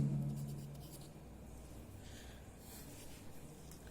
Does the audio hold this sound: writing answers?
yes